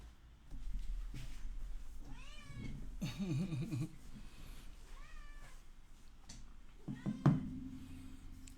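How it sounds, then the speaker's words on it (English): Pet cats meow repeatedly at close range, a series of rising and falling calls with short gaps between them over a quiet indoor room. "my cats are needy"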